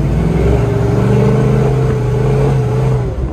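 A 1966 Chevrolet Chevelle SS convertible with an automatic transmission and a big-block 396 V8 runs with a deep, steady engine drone that rises slightly as it pulls, loud and close, with no talk over it.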